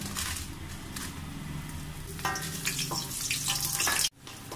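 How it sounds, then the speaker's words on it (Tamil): Dried red chilies fry in hot oil in an iron pan, giving a continuous close crackling sizzle that swells slightly midway and then cuts off abruptly near the end. "இதில் முதல்ல வரமிளகாய் வறுத்து எடுத்து வச்சுக்கலாம்"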